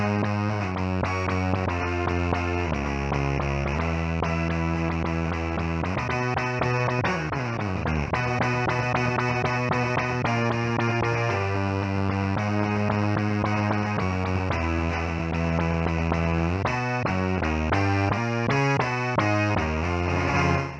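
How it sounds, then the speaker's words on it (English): Bass guitar run fully wet through an Electro-Harmonix Synth 9 pedal on its Mini setting gives a thick, buzzy, distorted synth tone, with sustained notes shifting pitch in a steady bassline for about twenty seconds, loud and alone. "let's take out the dry bass completely and let's run it through the EHX mini"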